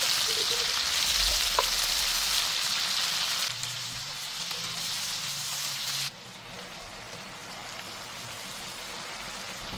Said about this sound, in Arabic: بنزل باللحمه وافرد اللحمه كويس جدا في الطاسه، ومش بقلب اللحمه خالص الا لما تاخد لون حلو قوي من تحت